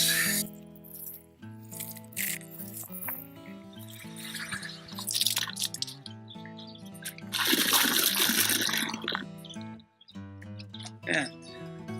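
Water runs and splashes inside a dirty glass milk bottle as it is rinsed, with irregular sloshing and pouring bursts close by, mixed with clinks and a person talking over it.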